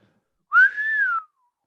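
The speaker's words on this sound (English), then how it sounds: "I couldn't even help that whistle" A single person's whistle, a loud rising then level tone lasting under a second, heard alone with no talk around it.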